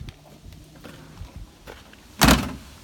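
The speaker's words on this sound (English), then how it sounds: "Shut that door properly." Land Rover 90 soft top with a 300Tdi engine, its door shut with one loud, close thud after a few light knocks and handling noises.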